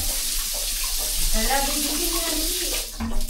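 A hot shower in a resort comfort room runs strongly, a steady close hiss of spraying water while a person talks over it.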